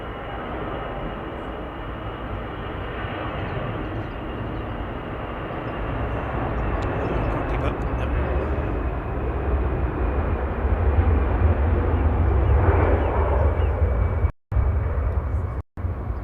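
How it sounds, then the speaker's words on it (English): An EasyJet airliner from Jersey touches down at Manchester Airport, its engine roar swelling steadily as it nears and then holding loud and broad, with a couple of brief dropouts near the end. "EasyJet from Jersey's just touching down."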